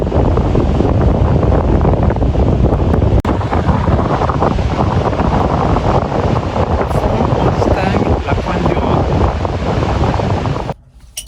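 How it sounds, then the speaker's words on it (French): Heavy wind at the Baie des Trépassés in Brittany buffets the microphone in a steady roar, nearly drowning out faint voices, before cutting off abruptly at the end. "il y a un peu de vent"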